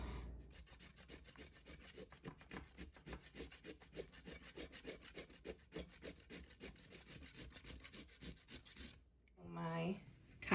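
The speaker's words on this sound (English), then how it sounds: "Next I have my carrots that I'm gonna grate on this side and some in the smaller one" Carrots are grated by hand against a box grater, a steady run of rapid rasping strokes for about nine seconds, close and fairly quiet, ending in a brief thump.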